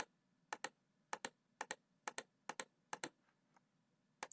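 Keys pressed on a computer keyboard in a run of about a dozen sharp, close clicks, some in quick pairs, with quiet gaps between them.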